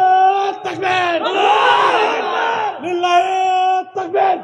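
A crowd at a religious sermon gathering shouting takbir, loud drawn-out chanted cries in unison that rise and fall in a couple of waves, close and forceful.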